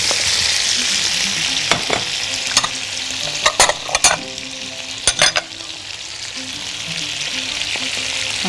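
Potatoes with tomatoes, beans and vegetables sizzle loudly in a pan while a utensil stirs them, with clustered scraping clatters in the middle and a constant frying hiss underneath.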